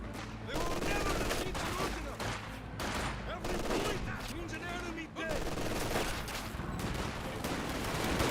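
Dense, continuous gunfire from units in a Company of Heroes 2 battle, with overlapping rifle and machine-gun bursts sustained loudly throughout and a brief dip midway.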